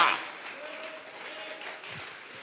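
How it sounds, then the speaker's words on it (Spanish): A church congregation claps in offering to God during a Tuesday Bible study service, a soft, diffuse, continuous patter of hands heard at a distance with faint voices underneath. "Vamos a regalarle la ofrenda de palmas al Dios de la gloria."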